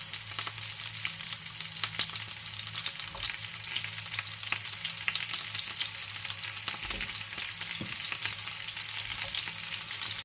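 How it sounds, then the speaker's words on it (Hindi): Sliced onion rings caramelize in hot oil in a pan, giving a steady, close, unbroken sizzle and crackle that holds at an even level throughout, with no voices. "मैं यहाँ ये प्याज के जो ये लच्छे हैं इनको कैरामलाइज कर रही हूँ।"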